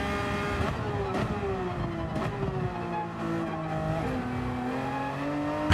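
Porsche race car in Gran Turismo 7, engine droning loud and continuous with rising and falling revs through gear changes, tires briefly squealing, no voices.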